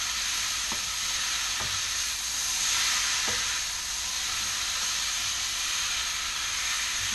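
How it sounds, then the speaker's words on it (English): Scallops tossed in a hot pan with spicy peanut long beans, a loud steady sizzle and hiss of frying throughout, with a few soft clinks of stirring and a swell of steam partway through, no talking. "now we're going to pop in our scallops that we cooked before, and just toss those around"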